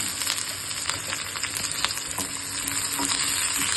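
Onion and fenugreek seeds tempering in hot oil for sambar rice, a close, continuous crackling sizzle with scattered pops and no voices.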